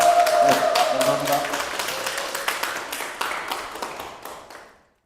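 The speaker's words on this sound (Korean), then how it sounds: "큰 박수로 맞이해주시기 바랍니다." An audience claps steadily to welcome a lecturer to a talk on nuclear safety. The dense applause fills the room, a voice speaks briefly at the start, and the clapping thins and stops near the end.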